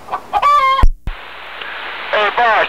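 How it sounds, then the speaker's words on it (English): Loose chickens cluck and crow loudly near a truck, with a sharp squawking call, a brief gap, then a steady broad hiss of road or engine noise before more clucking bursts close by. "your chickens are loose there, Brick."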